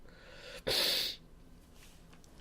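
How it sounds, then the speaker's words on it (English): A person gives one loud, sharp snort or sniffle lasting about half a second, close to the microphone, against a low steady background hiss, with no talking. "Very much sniffling and snorting."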